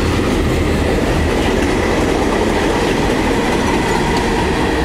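CSX freight train C770 rolls westbound beneath a road bridge, a steady loud rumble of rail cars with clickety-clack wheel beats holding strong throughout, no voices.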